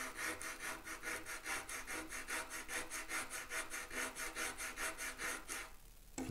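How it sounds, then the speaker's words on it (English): Wood sanded by hand with 60 grit sandpaper taped to a plywood block while building a thinline Telecaster guitar, a fast steady rhythm of raspy back-and-forth strokes, close and alone, stopping near the end. "It's just literally a piece of plywood with some 60 grit sandpaper taped to it."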